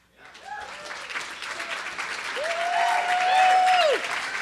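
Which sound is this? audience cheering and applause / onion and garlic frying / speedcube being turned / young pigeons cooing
audience cheering and applause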